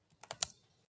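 A short burst of a few soft keystrokes on a computer keyboard as a prompt is typed, faint and close, with no voices.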